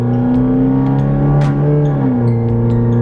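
A nitrous-equipped minivan launching hard off the line, its engine roaring loud and close with a rising rev that dips and climbs again as it pulls away, a short whoosh and faint squeal mixed in.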